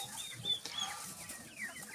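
Soft clucking and small chirping calls from young yellow and black chicks, several short overlapping sounds at close range, fairly quiet.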